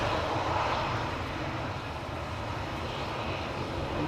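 A Finnair airliner approaching Schiphol airport produces a continuous, moderately loud jet engine rumble that stays steady across the short stretch, with no voices.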